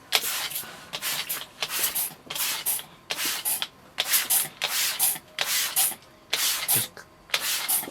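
Water spritzed onto Lepanthes orchids from a hand sprayer, a run of about a dozen short bright pumps in an uneven rhythm, close and fairly loud, with one brief spoken word.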